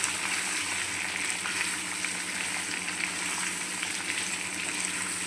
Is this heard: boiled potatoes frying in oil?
yes